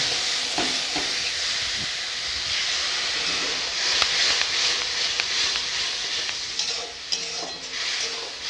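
A watered paste of chili, turmeric, cumin and coriander powders sizzles in sautéed masala for a katla fish and peas curry, a dense steady hiss with occasional stirring knocks close by.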